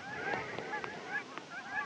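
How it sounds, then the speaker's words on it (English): A flock of geese honks repeatedly in overlapping nasal calls from a moderate distance, outdoors on a mountain hiking trail near Hidden Lake Lookout in Washington, with steady background ambience and no talking. "Oh, the geese going crazy."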